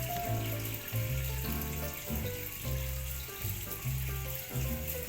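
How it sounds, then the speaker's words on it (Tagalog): Tap water runs steadily into a pot in a home kitchen while noodles are being prepared, a continuous close splashing stream with music playing in the background. "lagyan ulit natin yung tubig"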